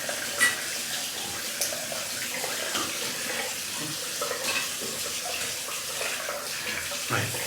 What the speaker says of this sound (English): let's give this a bit of a rinse. It's already hot.